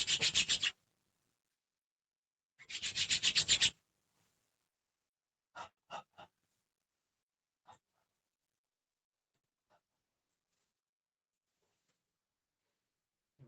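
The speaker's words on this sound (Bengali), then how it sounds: "এবার 3 বার হাত ঘষে আমরা প্রথমে চোখে, মুখে এবং তারপর সারা শরীরে লাগাবো।" Two short bursts of brisk palm-on-palm rubbing, hands warmed before a blessing, followed by a few soft scattered taps in an otherwise quiet room.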